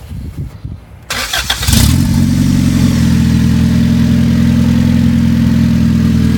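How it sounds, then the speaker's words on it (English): A turbocharged, otherwise stock Volvo B20 engine with upgraded injectors cranks briefly after some shuffling noise, catches, and settles into a loud, steady idle close by. "You want to fire it up so we can hear it? This is completely stock B20."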